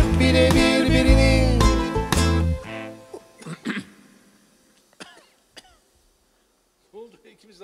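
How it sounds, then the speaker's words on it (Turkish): Coughing during a Turkish band's indoor session, a few throaty coughs and throat clearing following loud instrumental music that cuts off, then quieter sporadic sounds and a brief voice near the end. "İkimiz de aynı öksürük tuttu."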